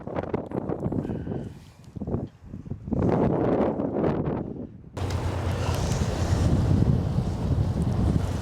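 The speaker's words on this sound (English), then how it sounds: "It's very windy today" Strong wind at a marina in Rogers City roars across the microphone, rising to a loud, constant rush in the second half after quieter gusty stretches.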